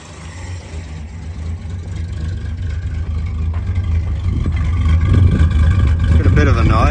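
Holden HJ wagon with its old 202 engine running after years off, a steady low idle rumble that builds slightly louder over the clip, close by.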